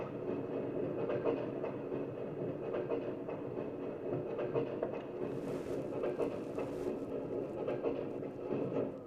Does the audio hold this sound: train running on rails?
yes